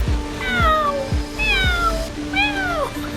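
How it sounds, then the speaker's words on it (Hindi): A cat meows three times in a row, each call clear, close and fairly loud, with rhythmic low thumps and a steady hum beneath. "बिल्ली बोली म्याऊ म्याऊ"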